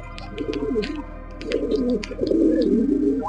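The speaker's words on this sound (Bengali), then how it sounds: "এটা হচ্ছে কালদম কবুতর, লং সাইজের কালদম কবুতর" A long-sized Kaldom pigeon coos nearby in throaty, rolling phrases, two bursts with a short pause between, over a low steady hum.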